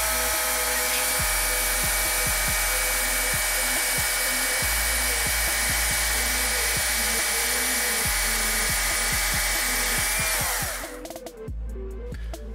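A power tool grinds steadily through a section of weathered elderberry wood, a loud continuous whine with rapid stuttering bursts as it bites, then winds down and stops near the end, leaving only faint room noise.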